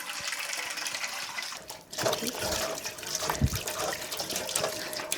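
Water flows from a cave in a remote mountain area, a steady trickling and splashing rush that continues throughout, with faint voices briefly audible.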